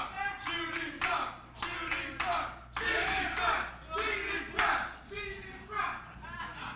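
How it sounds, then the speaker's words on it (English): A crowd at an APW Gym Wars independent wrestling show chants in rhythmic, repeated bursts with clapping between, loud and close, echoing in a gym setting. "Crowd chanting for the high-flying moves."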